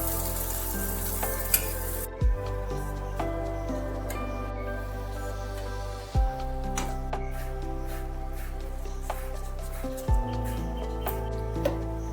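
A lentil and vegetable pancake fries in a lightly oiled pan, giving a soft steady sizzle with a few brief clinks and scrapes from handling at regular intervals.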